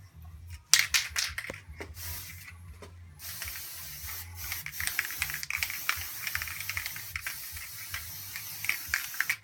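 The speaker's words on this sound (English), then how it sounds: "It's a marbleizing spray." Gold marbleizing spray paint hisses from a can onto an abstract painting, first in several short sharp bursts, then as a steady continuous spray with small sputters, close and fairly quiet.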